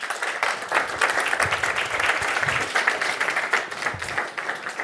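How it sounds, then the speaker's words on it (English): Audience applause greets a presenter taking the stage at a talk on social media strategy, a dense, steady clapping that fills the whole stretch at moderate loudness, with faint low thumps underneath. "Please give a warm Dream Inc. welcome to Dexter Patterson."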